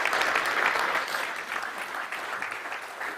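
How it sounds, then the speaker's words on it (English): Audience applause for a panel at the Derby Property Summit, a dense, steady burst of many hands clapping that stays loud throughout before easing slightly toward the end. "Give them a big round of applause."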